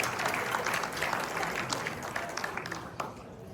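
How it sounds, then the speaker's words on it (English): A crowd at an Independence Day 2025 gathering in Wellington gives a round of applause, dense and lively clapping that stays strong and tapers slightly near the end. "Let's give Ashton Bates a round of applause."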